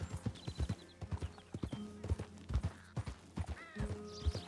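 Hooves of a horse in a video game clip-clop in a quick, steady rhythm of close, distinct thuds, with a faint whinny-like tone near the end.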